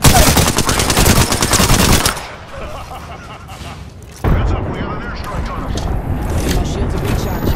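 Rapid automatic gunfire from a Flatline rifle in the video game Apex Legends, loud and dense, a sustained burst, a brief lull, then another long stretch of heavy shooting.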